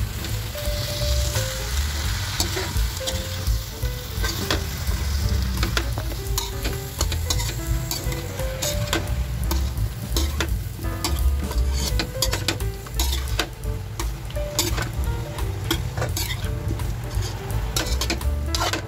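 Shrimp fry in a pan while being stirred, with a continuous loud sizzle and frequent ticking scrapes and clinks of the utensil against the pan throughout, close up and without speech.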